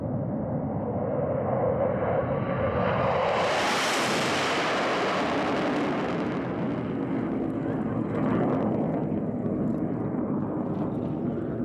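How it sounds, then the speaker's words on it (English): A Blue Angels fighter jet making a low transition takeoff: a loud, roaring jet engine swells to a peak with a sharp rising sweep as it passes close, then recedes into a long fading rumble, with no talk. "This is Lieutenant Brandon Hempley, flying for the Blue Angels, performing a low transition takeoff."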